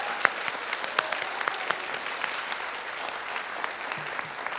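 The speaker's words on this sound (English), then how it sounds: "give them a round of applause" Moderate applause at a high school Project SEARCH graduation, many hands clapping at a steady level, with a few sharper individual claps standing out.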